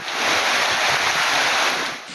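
Rough Bay of Bengal waves surge at Kuyakata beach in Patuakhali in stormy weather, a loud continuous roar of surf mixed with wind buffeting the microphone, steady throughout.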